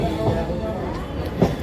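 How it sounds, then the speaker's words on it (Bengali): A train pulls into Rishra station, its low steady rumble and rail noise running continuously with a faint squeal of wheels, a few brief knocks, and a louder thump near the end. "তো আপাতত রিসরায় ঢুকছে ট্রেন"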